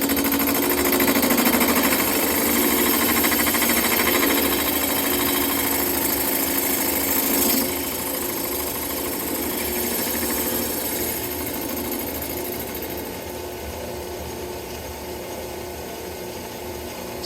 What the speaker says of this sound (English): I'll run this one in a bit faster so you can see a difference in machining.